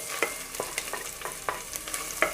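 Cucumber goes into golden-brown onions frying in oil and gets stirred: a soft steady sizzle runs beneath repeated sharp scraping clinks of a utensil against the pan, about seven strokes, close and alone.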